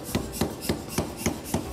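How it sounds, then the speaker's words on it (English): Heated sword metal is hammered flat by hand, six evenly spaced sharp strikes about a quarter-second apart, close and clear with no talk. "The metal is heated up, then hammered flat,"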